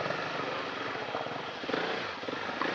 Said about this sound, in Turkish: O ne lan helikopterle mi geliyor bu adam buraya?